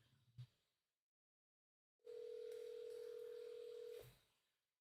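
A telephone call being placed: a brief bump of noise, a short silence, then a steady, moderately loud tone holding for about two seconds before cutting off, with no talking.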